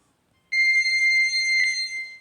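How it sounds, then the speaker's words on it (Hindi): Timer sound set during a scholarship exam mental ability lesson: a steady electronic tone with a bright, pure ring begins abruptly and holds continuously, loud and alone without talk. "टाइमर मैं आप लोग के लिए लगा रहा हूँ।"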